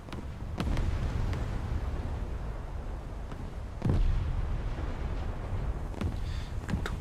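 Heavy naval gun blasts from a British cruiser in a warship battle game, a few sharp booming reports at about 0.6 s and 3.8 s and again near the end, each rolling into a sustained low rumble of battle ambience.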